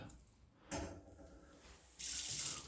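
Water runs and splashes in a bathtub while TIG welder parts get a soapy dish-soap scrub, faint and close, with irregular sloshing that swells into a brighter rush of tap flow near the end.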